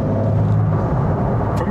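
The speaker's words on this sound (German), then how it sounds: "Hier können wir jetzt als Beispiel einfach mal den fünften Gang nehmen und geben mal Gas." A Porsche 911 (992) GTS hybrid accelerates at full throttle in fifth gear from about 2000 rpm, giving a steady, loud, close-up engine rumble and drone that holds constant throughout with no voices.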